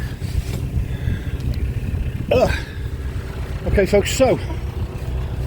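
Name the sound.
narrowboat engine revving forward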